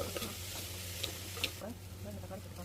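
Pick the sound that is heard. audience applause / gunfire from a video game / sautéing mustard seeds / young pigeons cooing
sautéing mustard seeds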